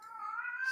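A house cat gives a single drawn-out, rising meow, close and fairly loud, with no talk over it.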